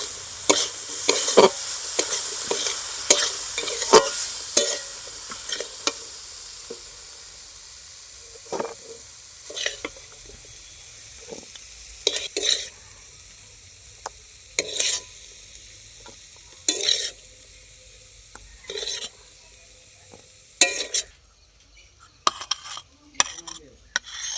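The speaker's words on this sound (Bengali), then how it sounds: "গরম মশলা দিয়ে দিচ্ছি, একটু নেড়ে নেব" Cauliflower curry stirred in a pan after garam masala goes in, a soft sizzle fading under intermittent scrapes and clinks of a spoon against the pan, some strokes sharper than others, with no talking.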